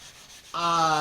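Sandpaper rubs by hand along a steel crooked-knife blade to replace file marks, a steady close scraping that starts abruptly halfway through after a quieter lead-in.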